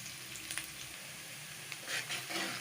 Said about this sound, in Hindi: प्याज ब्राउन हो रहा है, इसको मैंने हाफ ब्राउन करना है।